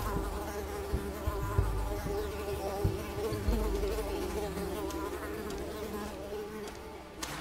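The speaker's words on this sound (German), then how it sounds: "Oh nein, Mücken! Ja, geht weg hier!" Insects buzz in the video game Unravel, a dense, continuous droning hum of mosquitoes that holds steady throughout at moderate loudness, with a few soft low thumps underneath and no talking.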